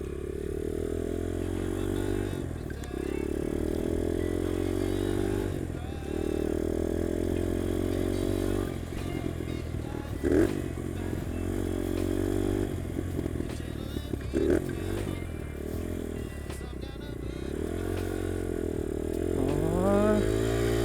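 A UM DTF 150 dirt bike engine idles steadily at close range with a loose mechanical rattle, revving up briefly a few times before settling back to a smooth idle; no talk over it.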